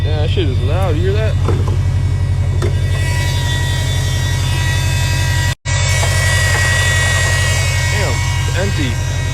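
A steady, loud mechanical drone with a whining edge comes from the power steering pump of a 2012 Subaru with a leaking rack and pinion. It runs close and continuous, with talking at the start and one abrupt cut midway.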